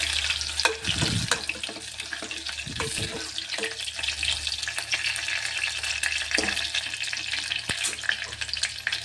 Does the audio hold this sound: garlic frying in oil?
yes